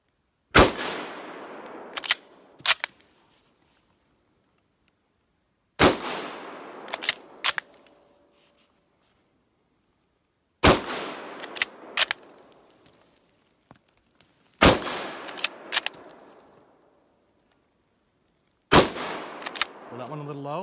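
Lithgow Lee Enfield No1 Mk3 rifle fired outdoors, five loud sharp shots spaced several seconds apart, each followed by the metallic clack of the bolt being cycled.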